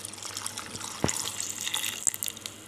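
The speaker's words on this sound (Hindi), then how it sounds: "और दूध डालेंगे।" Milk pours into a blender jar with mango for a mango shake, a soft, close liquid splashing and trickling stream with a few faint drips and clinks.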